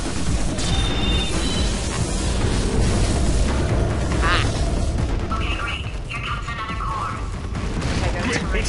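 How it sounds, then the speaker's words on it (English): Explosions from stuck bombs detonating in Portal 2 fill the scene as a dense, continuous rumble with crackling bursts, loud and close, while a voice shouts over the blasts. "Ah, the bloody bombs are stuck."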